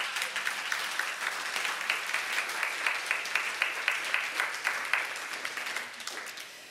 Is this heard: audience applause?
yes